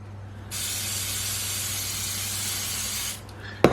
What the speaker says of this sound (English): I give this sandwich a spray.